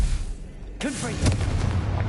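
A spell in Hogwarts Legacy ignites with a sudden booming blast, followed by crackling bursts and a short tail of rumbling debris. A voice speaks over the start.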